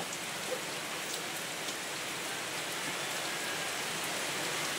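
Steady rain pours down outdoors on a farm plot, a dense even hiss with scattered drop patter, moderately loud and continuous with no voices.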